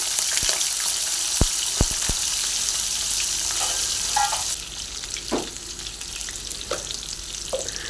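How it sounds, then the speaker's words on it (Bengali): Potatoes fry in mustard oil with a steady bright sizzle, broken by a few sharp clicks and scrapes of stirring before the hiss quiets partway through. "প্রথমে আমি আলুগুলোকে ভালো করে সরষের তেল দিয়ে ভেজে নিচ্ছি।"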